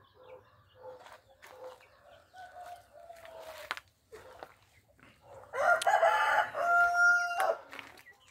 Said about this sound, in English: I keep the baby chicks in here as well when they're young.